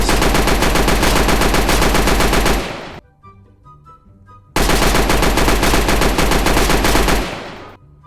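A Mac gun fires through walls in a Roblox game: two long, loud, close bursts of rapid automatic fire, each lasting about three seconds, separated by a short quiet gap with faint game tones.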